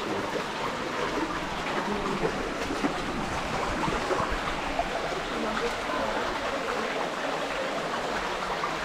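Water from a waterfall stream flows steadily with a constant broadband rush, near and unbroken throughout, a faint voice now and then underneath.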